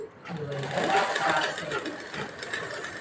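A sewing machine stitching a blouse runs with a continuous, fast mechanical whir and rattle that rises and then eases slightly. Someone talks over it.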